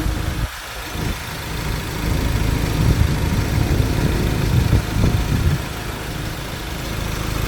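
A Ford four-door pickup truck engine idling, a steady low rumble with a slight swell in the middle as if briefly revved, heard close and alone.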